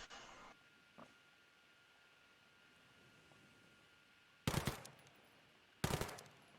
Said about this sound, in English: I can hear you firing a couple of rounds off at the same time there